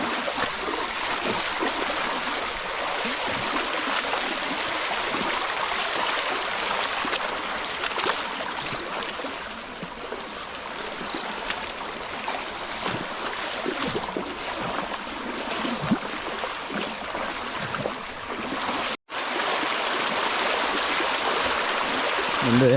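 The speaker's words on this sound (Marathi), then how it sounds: "पाणी बघा किती आहे पर्याला." A stream running full with plenty of water, a broad steady rushing flow heard close and continuous, with no talk, and a brief dropout near the end.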